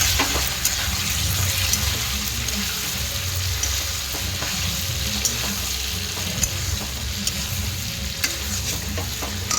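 Green chilli paste, dry red chilli paste and spices fry in a pan while being stirred, a loud continuous sizzle with scraping stir strokes throughout, with no voices.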